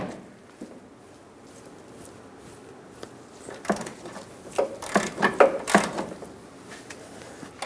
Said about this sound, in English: For now, I'm just going to try to break the mounting nut free.